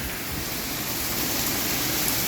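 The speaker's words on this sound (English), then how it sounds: "Look at this torrential rain here" Torrential rain pours down as a dense, steady hiss of water that fills the whole short stretch without any pause, loud and uniform with no voices.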